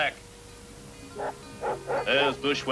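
Wandering dog in a Lucky Luke cartoon yapping in a quick series of short barks that grow louder and denser toward the end, against quiet background.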